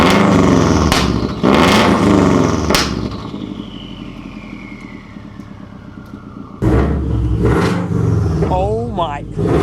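Bugeye Subaru WRX fitted with a Tomei exhaust revs hard several times, with loud rising and falling engine sweeps between stretches of rumbling idle. Voices react over the engine noise.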